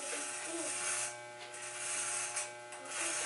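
Electric hair clippers buzz close and continuously while fading a man's hair, the motor tone dipping and swelling as the blades move through the hair.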